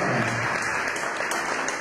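A wedding crowd claps for the bride's or groom's mother, a dense, steady burst of applause filling the short moment with no talking over it.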